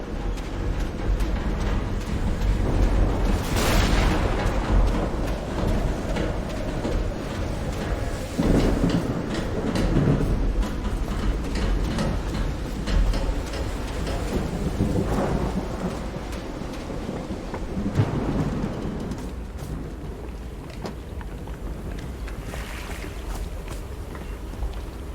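Thunderstorm in the video game Call of the Sea: steady heavy rain with repeated rolling thunder cracks and rumbles building and fading across the clip, loud and continuous.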